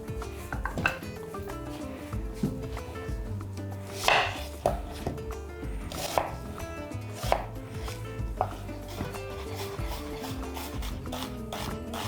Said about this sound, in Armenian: մեկ մեծ կամ 2 միջին գլուխսող մանր կտրատում ենք և տապակում։